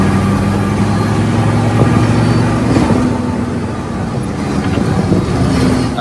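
A Mercedes 300 SD diesel engine swapped into a Jeep Wrangler runs steadily, with a low, even idle rumble and a constant droning hum close by.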